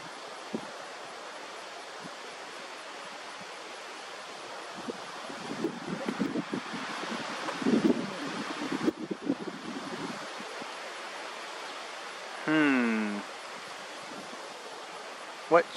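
Strong wind roars steadily outdoors by a roadside in coastal Georgia, buffeting the microphone with gusty rumbles that surge midway, with a brief unrelated tonal sound near the end.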